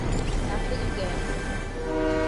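Rumbling rail noise and a horn-like tone from a train in a video game, steady and fairly loud, with voices talking over it throughout.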